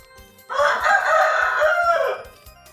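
A rooster crows once near a rural Thai home garden with bamboo shoots, one loud sustained call of about one and a half seconds with low background noise and no talk.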